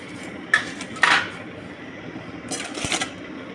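Metal cooking pot clanking and scraping in a few sharp knocks as boiled mutton is lifted out, close and fairly loud against a quiet kitchen.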